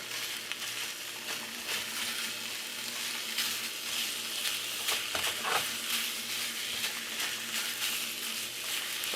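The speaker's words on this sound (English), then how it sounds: "all I'm trying to do is break this up and brown it" Ground beef fries in a pan while being broken up and browned for a burger pot pie, a continuous moderate sizzle with occasional scraping and crumbling sounds from the utensil.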